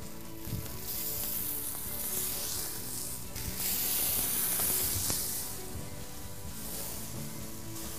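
Beans and tomatoes tossed into a hot pan after seared scallops for a warm salad, giving a steady, close sizzle and hiss of frying that swells midway, with no talk.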